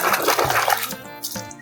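Water pours and splashes over a zebra being washed, one brief gush that trails off quickly.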